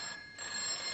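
A telephone bell rings steadily at close range, a continuous bright electronic ring that fills the moment alone, with no voices over it.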